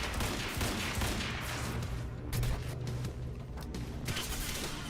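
Dense bursts of gunfire in the Quantum Break video game crackle without pause for about five seconds, a loud and steady volley of overlapping shots with no voices over it.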